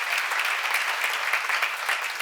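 An audience at a church seminar claps steadily, a dense, even burst of applause from many hands that continues throughout.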